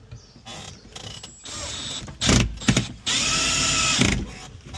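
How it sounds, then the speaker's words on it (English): Power driver running screws in while fitting a Tait TM8110 two-way radio into a New Holland T7.200 tractor, several short loud whirring bursts separated by mechanical clicks and handling noise, close up. "I'm not saying use a driver to drive these screws."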